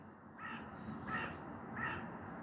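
A crow perched on a fir tree caws three times in steady rhythm, each harsh call clear and fairly close over a faint outdoor background.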